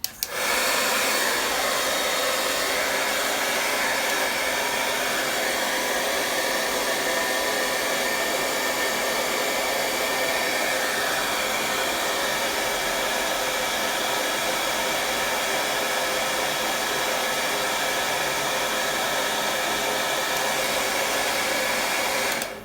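A hair dryer runs continuously over a fresh acrylic cactus painting, giving a loud, close, steady whooshing blow of air with no pauses from start to finish.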